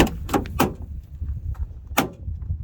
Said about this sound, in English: your front doors are making this loud clicking noise when you open them and close them